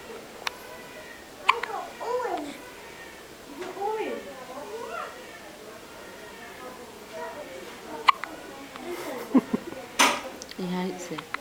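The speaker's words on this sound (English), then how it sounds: "Oh, you got the hiccup." A small child in a hospital has hiccups, with several short, sharp hiccups scattered through the stretch among adult voices coaxing and chatting nearby, plus a few faint clinks in the background.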